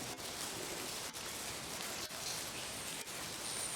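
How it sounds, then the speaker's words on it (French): Soft rain falls outside a cloister near a garden, a faint, even hiss that runs throughout with a few small dips, and no talking. "nous ne sommes pas aujourd'hui dans le jardin biblique puisqu'il pleut"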